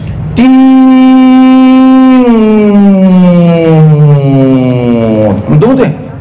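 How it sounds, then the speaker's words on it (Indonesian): A loud siren wails in a long sustained tone that slowly falls in pitch, rising abruptly at the start and holding steady for several seconds. "Dia may mangkuling sirene."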